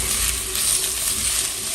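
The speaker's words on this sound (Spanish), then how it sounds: "lo que quiero es que se empiece a freír un poquito la salchicha y que agarre el sabor a la cebolla" Sausage frying with onion in a pan gives a steady, close sizzle with fine crackling, constant and uninterrupted for a brief moment.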